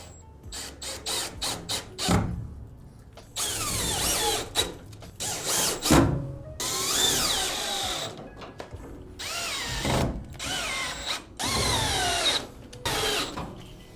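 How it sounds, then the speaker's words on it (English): Power drill driving wood screws into the frame of a wall bed being installed in a bunkie, in repeated short bursts of whirring with brief pauses between them, close and loud, with no talk. "I'm just putting the wood screws in the bottom"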